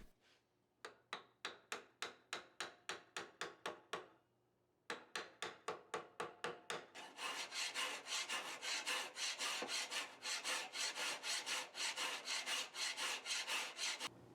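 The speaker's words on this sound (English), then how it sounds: "I always feel that a little hand profiling is needed to perfect things" A file works the profile of a hand-forged tanto knife blade, sharp rhythmic rasping strokes at first spaced about a third of a second apart, pausing briefly, then quickening into a dense continuous scraping.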